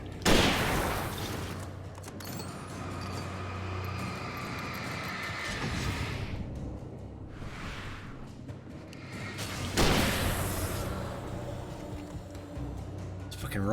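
Rifle gunfire in the video game Alan Wake, loud bursts of shots with booming impacts, a heavy blast near the start and another midway, mixed with game noise and a voice talking.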